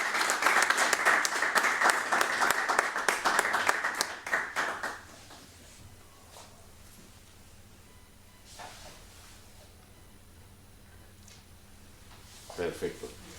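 Applause from an audience at a research award ceremony, dense and steady for about four seconds before dying away into quiet room noise, with a short burst of talking and movement near the end.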